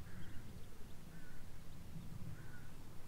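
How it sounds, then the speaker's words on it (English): Faint crows caw a few times in the distance over a quiet, hissy outdoor background in the Yorkshire Dales. "Listen to the birds."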